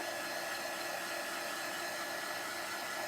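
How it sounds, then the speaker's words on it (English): A steady, close-up rush of blowing air from a heat tool, a continuous broadband hiss with no breaks or changes in level. "And I'm going to dry this just a little bit. I'm using a heat tool."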